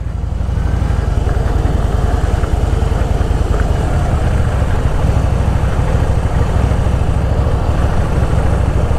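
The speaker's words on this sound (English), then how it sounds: "The engine needs to warm up a bit." A cold Harley-Davidson Fat Boy motorcycle idling as it warms up, giving a steady close low-pitched thrum that holds evenly for about nine seconds with no talk.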